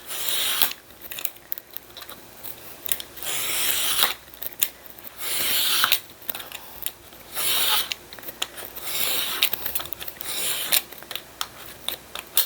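Repeated short scraping cuts of a craft knife drawing through paper, coming in bursts with brief pauses between strokes, close and fairly quiet.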